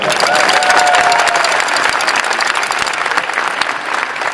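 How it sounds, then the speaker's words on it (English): New Jersey Devils fans give P.K. Subban a loud, sustained round of applause, a dense continuous wash of clapping from a large crowd with faint cheering mixed in. "a little round of applause for him."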